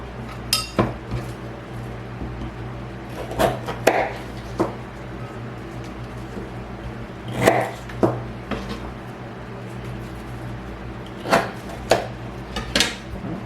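A knife chops through supermarket lemongrass on a cutting board, giving scattered clusters of crisp thuds and clicks against a quiet room.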